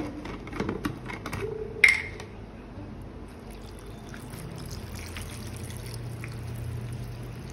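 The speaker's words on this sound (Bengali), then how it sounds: "এই যে জল দিয়ে দিলাম।" Water poured into a cooking pot on top of turmeric and salt, heard as a soft, steady, close trickle that starts after a brief splash and keeps running quietly to the end.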